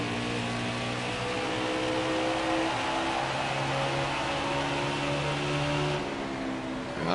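Race car engines in a sim racing game at the Iowa track drone and rise steadily in pitch as they accelerate down the front straightaway. The tone is loud and continuous, with several engines layered together and no talk.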